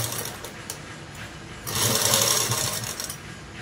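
A sewing machine runs a straight stitch on long frock dress cloth, a low mechanical hum that rises into a louder, steady whirring run for the last couple of seconds.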